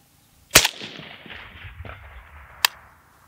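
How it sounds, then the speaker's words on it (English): A single sharp rifle shot from a PSA AK-103 fired downrange at 300 yards, followed by rolling echo and a second fainter crack of impact or report about two seconds later, outdoors. "Let's start pushing those rounds down the range."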